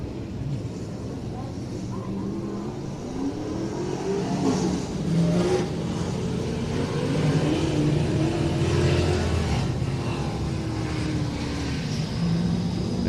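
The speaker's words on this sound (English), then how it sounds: "Bumping over in turns 1 and 2, and Chasten Finkbone ends up being the car" Race cars on a speedway track, including through turns 1 and 2, with engines droning and revving at a distance under steady crowd and track noise.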